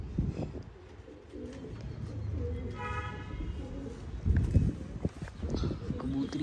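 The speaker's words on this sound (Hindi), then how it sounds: "कबूतर" A pigeon coos softly in a noisy outdoor setting, its low murmuring calls partly masked by steady background rumble and scattered knocks.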